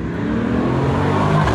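A Corvette passes close by, its engine a loud, steady roar that swells slightly as it goes, with no talk over it.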